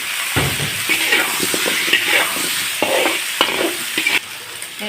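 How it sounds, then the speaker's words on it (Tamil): Tomato and potato sautéing in hot oil, with a steady sizzle and repeated scraping and stirring strokes throughout, close and fairly loud. "நல்லா எண்ணெயிலே வதக்கணும்."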